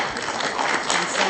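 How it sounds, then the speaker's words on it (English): An audience at a conference on legal issues for African registries and registrars claps for the moderator in a short, dense burst of applause. "a round of applause to him as well"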